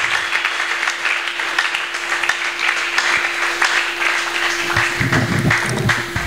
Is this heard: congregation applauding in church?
yes